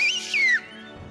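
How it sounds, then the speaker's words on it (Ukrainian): A loud, piercing human whistle from a loudest-whistle contest: two shrill, sliding blasts close together, then quiet. "в результате несложного эксперимента в номинации «Самый громкий свист» победил"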